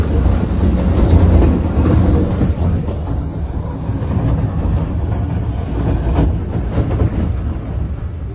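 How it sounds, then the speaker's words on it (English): Heavy train cars derail near vehicles in Moore, Oklahoma, producing a continuous loud rumbling roar with clattering and rolling crashes that surge and ease over several seconds. "It's alarming to see heavy train cars unexpectedly derailing just a few meters from vehicles."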